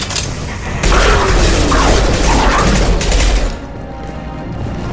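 Sustained heavy gunfire and booming impacts in a Mass Effect 2 firefight at Archangel, loud and dense for most of the moment before easing into a quieter rumble.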